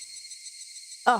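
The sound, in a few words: cicadas chirping in video game Higurashi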